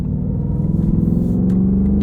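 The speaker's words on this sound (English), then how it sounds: "Even in normal mode, this 5-liter V8 shouts." A 2022 Ford Mustang Mach 1 with a manual gearbox and a 5-liter V8 drones loudly in normal mode, a steady deep rumble rising gradually in pitch under load as it accelerates, with no talking.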